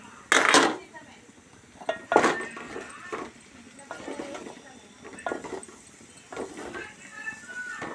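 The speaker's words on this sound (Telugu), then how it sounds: "ఇప్పుడు సొరకాయలు వేసుకుందాం" Bottle gourd pieces drop into a pan in a few separate loud clattering bursts with metal clinks between them, while a person talks throughout.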